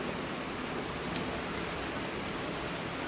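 Steady rain falls in an even, unbroken hiss, with no voices and no other sounds standing out.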